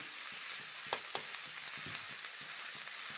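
Potatoes frying in a pan with kalonji seeds, a steady close sizzle with a few scraping stirs of a spoon against the pan, no talk.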